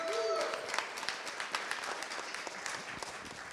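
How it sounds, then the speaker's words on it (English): Audience applause breaks out in a room at a live presentation, dense crackling claps with a few sharper individual hits, steady and fairly loud throughout, mixed with some crowd noise and a brief tone at the start. "give him a round of applause"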